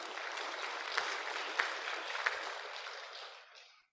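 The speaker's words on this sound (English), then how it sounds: "Applause for all of them." Applause for departing students at a farewell ceremony, a soft continuous patter of clapping from a modest group with a few sharper claps, fading out at the end.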